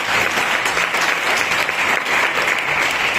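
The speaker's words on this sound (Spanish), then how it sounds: "¿Cuánto dan ese fuerte aplauso?" A church congregation gives a loud, sustained round of applause, dense steady clapping close up with no break.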